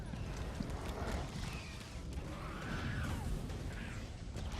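Horse hooves on the move in The Elder Scrolls Online, a dense, continuous low thudding under a busy wash of game ambience, fairly faint and steady with no clear gaps.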